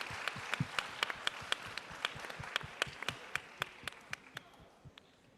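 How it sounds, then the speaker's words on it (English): Applause at a high school freshman honor roll ceremony, a modest round of distinct, fairly sparse claps with a few louder hands standing out, thinning and fading toward the end. "round of applause for Miss Belayne's group"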